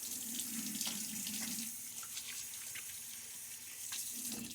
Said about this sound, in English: A quick water splash.